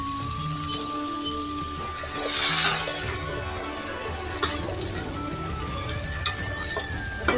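Potatoes and bottle gourd greens frying in oil tempered with spices, a continuous close sizzle with occasional soft stirring taps and a brief whistle-like tone, no voices.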